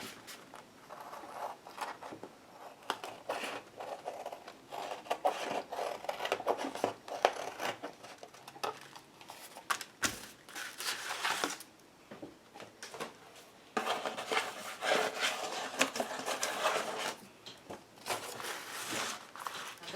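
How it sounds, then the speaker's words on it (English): Scissors snip through a layered corrugated cardboard collage in short crunching bursts with brief pauses, close and fairly quiet, no voices. "Now I'm just going to cut this whole thing out."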